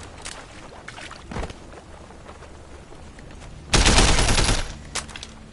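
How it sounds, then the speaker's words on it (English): Assault rifle gunfire in the open-world action game Sleeping Dogs, heard as a dense, loud burst of rapid shots in the middle of the clip, with scattered quieter game sounds before and after. "Oh, it's an assault rifle."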